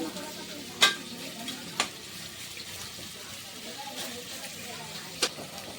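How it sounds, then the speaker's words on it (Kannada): Onions frying in a pan in a village kitchen, a quiet continuous sizzle with a few sharp stirring clinks, close by. "ಇದಕ್ಕೀಗ ಚಂದ ಫ್ರೈ ಮಾಡ್ಕೊತೀನಿ"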